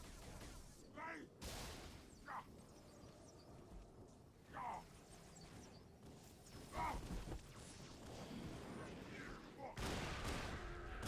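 Gunfire in the modded video game Halo: The Master Chief Collection, several sharp shots spaced through the clip with rapid bursts near the end, over steady game background noise.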